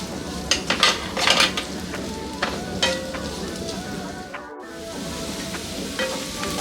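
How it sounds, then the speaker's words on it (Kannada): Okra masala (bhindi) frying in oil in a pan gives a steady close sizzle, with a few scraping stir strokes early on and a brief dip near the end, and no talking. "ಒಂದು 2 ನಿಮಿಷ ಇದನ್ನು ಇದೇ ರೀತಿ ಎಣ್ಣೆನಲ್ಲೇ ಫ್ರೈ ಆಗೋದಕ್ಕೆ ಬಿಟ್ಬಿಡೋಣ"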